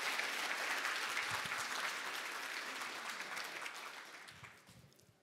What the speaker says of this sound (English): Let's give every one of those guys a round of applause for our top 10.